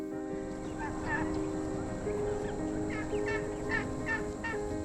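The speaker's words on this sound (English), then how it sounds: "So this young lady is about to move this set of turkeys." Farm turkeys gobbling in bursts from a turkey house, several rattling calls repeating over a steady low background hum and hiss, moderately distant.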